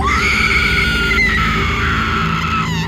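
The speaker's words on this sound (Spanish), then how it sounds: "mi esposa lanzó un grito" A woman lets out a long, loud, piercing scream in a dramatized horror story about a goblin, one sustained shriek held for nearly three seconds with a brief waver in the middle.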